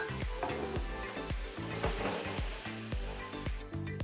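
Sauce hits a hot pan of tofu and sizzles steadily, with a regular series of stirring knocks and scrapes from a utensil against the pan, fairly close but soft in level.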